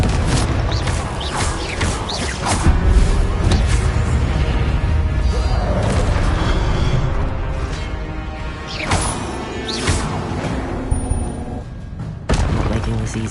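Booming Confringo blast-spell explosions in Hogwarts Legacy, several loud impacts with crashing debris and whooshes spread across a continuous combat din, with little speech.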